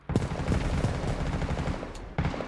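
Rapid gunfire from a player's recoiling rifle in the video game WW3 during team deathmatch, loud close bursts of shots in quick succession that pause briefly before another burst starts.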